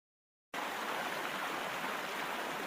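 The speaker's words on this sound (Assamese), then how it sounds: "এই নদীৰ সোঁতৰ শব্দ শুনিছেনে আপুনি?" A river current rushes in a continuous, even wash of water noise that starts abruptly after a brief silence and holds steady and fairly close with no voices.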